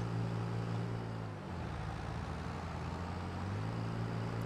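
Steady low drone of a tractor engine in Farming Simulator 22, a continuous close rumble with a slight dip and change in pitch partway through, no voices.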